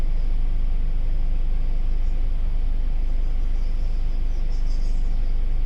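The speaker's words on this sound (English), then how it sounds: "Let's go ahead and drive." A car drives along with a steady, loud low rumble of engine and road noise, unbroken throughout and with no talking.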